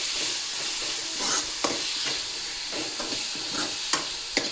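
Onions and tomato frying in oil for a beetroot palya, a continuous soft sizzle with occasional sharp scrapes and taps of a spoon stirring the pan.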